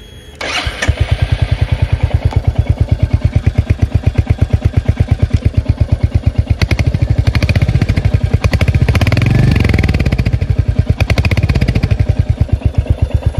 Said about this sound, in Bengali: তো গাড়িটা আপনাদেরকে অন করে দেখিয়ে দিই এটার ইঞ্জিন এক্সস্ট সাউন্ডটা কীরকম।